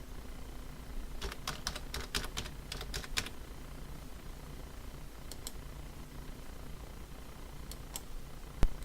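Computer keyboard keys tapped while entering a shared key for an L2TP IPsec VPN connection on a Keenetic router, in short irregular bursts of clicks over a quiet steady hum, with a sharp tap at the end.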